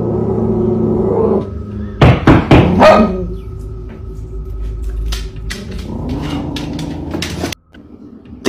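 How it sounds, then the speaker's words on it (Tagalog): A dog outside a house gives a quick cluster of loud, close barks amid heavy thumps and knocks, set against a steady low hum. "Tila ba may nakikita ang aso sa labas ng bahay?"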